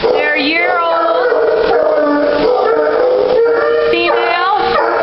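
Shelter dogs at an animal shelter howl and yelp loudly and continuously, with rising and falling wavering cries overlapping close by.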